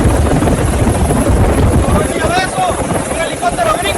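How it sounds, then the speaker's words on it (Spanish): A US helicopter hovers close by, its rotor making a loud continuous thudding drone with a high whine, while voices shout over it. "Un helicóptero gringo aquí mismo, está bajando por la cuerda"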